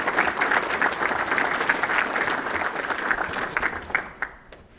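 An audience at a Rotary career and technical education awards ceremony applauds steadily for several seconds, a dense, even wash of clapping that thins out into a few last claps at the end.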